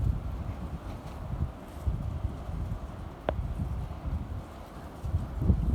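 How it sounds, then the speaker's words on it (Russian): Hurricane-force wind in Altai blows in heavy, uneven gusts, a deep rumbling buffeting that rises and falls throughout, with no one talking. "На Алтае ураганный ветер."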